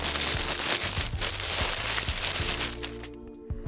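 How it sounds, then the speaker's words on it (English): Tissue paper from a Static Black Yeezy 350 V2 shoe box is crinkled and handled close up, with a rapid burst of crackling and rustling that fades near the end. "Let me give you like a sound so you can maybe compare the sound of the tissue paper."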